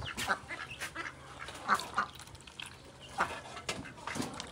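Scattered quacks from farm ducks at moderate distance, a handful of separate calls spread over a few seconds amid light background noise.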